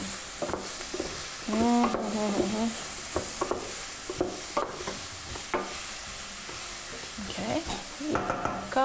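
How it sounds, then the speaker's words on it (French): Spiced ground beef for taco-style stuffed peppers stirred in a hot pan, with scraping spoon strokes and bursts of sizzling spread across the clip; a person briefly speaks and hums in between. "Laisse-moi juste mélanger un petit peu plus."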